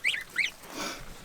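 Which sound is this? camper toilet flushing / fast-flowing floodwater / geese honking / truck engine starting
geese honking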